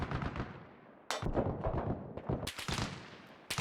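Gunfire striking an armored vehicle in the video game Arma Reforger, heard from inside; sharp, loud bursts of impacts arrive in several clusters over a low rumbling background.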